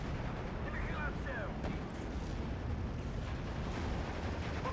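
Artillery shells landing in Steel Division 2, a WWII strategy game, heard as a continuous low rumble of distant booms and bursts, with faint whistling shell sounds early on and no voice.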